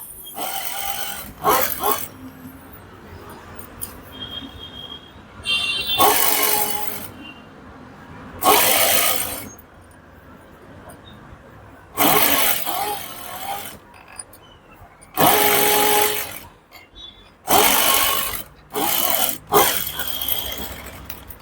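A sewing machine stitches a boutique-style blouse with piping in short, loud whirring bursts of a few seconds each, separated by brief pauses, with quieter handling sounds in between.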